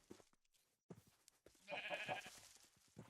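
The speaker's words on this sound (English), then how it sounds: "Oh my gosh, this stupid sheep." A sheep bleats in Minecraft, several short wavering cries with a louder, longer bleat in the middle, heard close and fairly quiet amid brief gaps.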